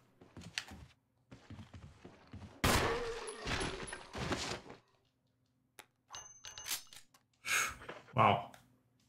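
Gunfire in a Resident Evil 1 game: several sharp shots come in separate bursts between quiet gaps, mixed with metallic clangs and short game sounds.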